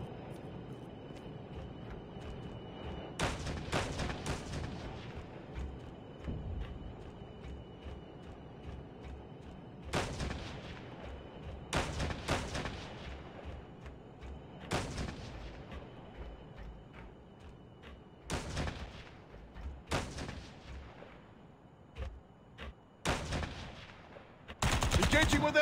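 Sniper and other gunfire in the Call of Duty Mobile video game, with sharp, loud shots at irregular intervals and several bursts spread across the clip, over a steady background hum.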